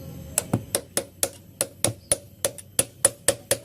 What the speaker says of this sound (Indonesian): Cukup gunakan obeng min yang sudah rusak seperti ini supaya tidak sayang untuk getok-getok.